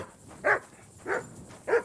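A dog in the video game Kingdom Come Deliverance 2 barks three times in an even rhythm, each bark clear and close over a quiet background.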